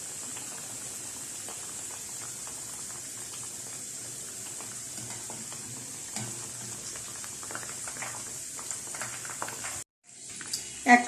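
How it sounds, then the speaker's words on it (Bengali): Dal puri deep-frying in plenty of oil over low heat, a continuous gentle sizzle and bubbling with occasional light scraping, cut by a brief silence before a louder clatter near the end. "এভাবে আস্তে জাল দিয়ে আমি পুরিগুলো ভেজে নিচ্ছি।"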